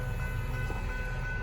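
Norfolk Southern freight train NS28R rolls past on the Charlotte District, a steady heavy rumble of rail cars with a faint horn-like tone held throughout, fairly loud and continuous.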